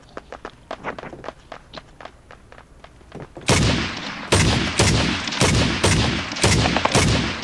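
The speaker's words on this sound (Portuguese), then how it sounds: "tá tiro de PKM pra lá" Machine gun fire from a PKM in the online shooter Badlanders comes first as faint distant bursts with light footsteps, then turns loud and close, with rapid sharp bursts repeating every half second or so.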